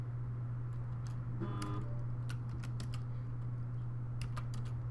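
Computer mouse and keyboard clicking while editing a 3D facial model's eyebrow, with sharp isolated clicks scattered over a steady low electrical hum.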